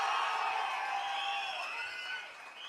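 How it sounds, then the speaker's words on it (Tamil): A large crowd at a live party anniversary event applauds and cheers in a continuous hissing wash of claps. It starts strong and tapers slightly toward the end. "ஒரு பெரிய கைத்தட்டல் தரணும்"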